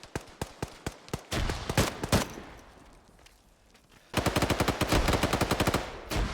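Machine gun bursts in Arma 3, rapid, loud, close rattling volleys of repeated shots, a pause with a quieter distant stretch, then another sustained burst of fire.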